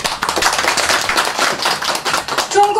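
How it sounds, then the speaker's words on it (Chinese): Applause from the audience at a Beijing association's promotional event in the United States, a continuous patter of clapping that stays loud throughout, with a few brief tonal sounds near the end. "我们再次隆重的鼓掌。"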